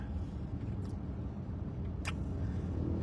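A car creeps through heavy traffic on Makati Avenue, heard from inside as a steady low engine and road rumble, with a couple of brief faint clicks and no talking.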